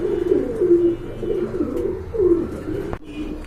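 Pigeons of a large breed kept for sale coo in two drawn-out, throaty phrases, close and clear, with a short thump near the end and no talking.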